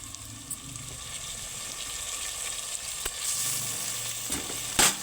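Potato and onion curry frying in a pan as tomato pieces go in, a steady close sizzle with brief stirring clatters and a louder burst near the end, no talk.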